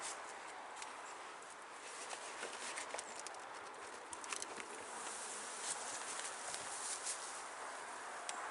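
Steady, dense buzzing of many honeybees from an opened hive being split fills the whole stretch, with faint scattered clicks and rustles over the continuous drone.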